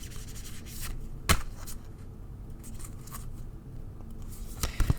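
A tarot deck being shuffled by hand, soft papery riffles and rubbing with a few sharper card snaps, close and alone without talk.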